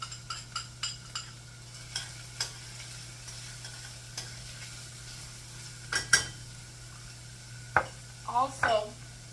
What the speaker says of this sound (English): I'm going to add the onion and the garlic. And we're going to stir fry this until